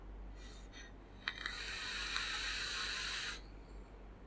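A single long draw pulls through a 30mm Aromamizer Plus RDTA tank with the airflow and juice flow fully open, making a soft, steady airy hiss for about two seconds, close and quiet, after a couple of small clicks.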